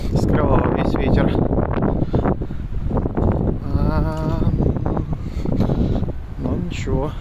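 Strong wind buffets the microphone outdoors in Vancouver along the waterfront, rumbling in loud gusts while someone talks over it.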